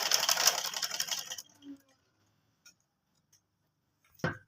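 A sewing machine whirs rapidly for a moment while back-stitching a kurti pocket seam, then stops, followed by a few faint clicks and a short thump.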